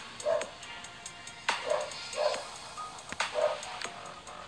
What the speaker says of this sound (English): My dogs, man, sorry about that, y'all. They bark at freaking leaves outside, I swear.